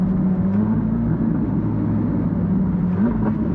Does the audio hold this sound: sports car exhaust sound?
yes